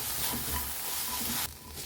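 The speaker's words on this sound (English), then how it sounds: "I'll add in a bit of crushed garlic at this stage, half a teaspoon, and just toss it with the veggies." Crushed garlic and vegetables are tossed in a hot frying pan with a loud, dense sizzle and a rustle of stirring, which eases slightly near the end.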